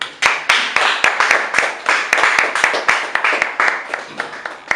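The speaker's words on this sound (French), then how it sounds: "On peut applaudir ce coup." An audience claps in steady, loud applause at an official installation ceremony for new department directors, the dense patter of many hands carrying on without a break.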